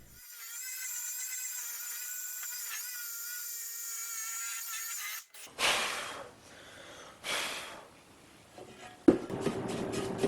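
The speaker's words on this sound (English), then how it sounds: "So I came across the top of them with the palm sander and 150 grit sandpaper" A palm sander with 150 grit sandpaper works the tops of aluminum valve cover cooling fins from an old 1953 Chevy pickup engine, giving a steady high whine for about five seconds before it stops, followed by close handling noises.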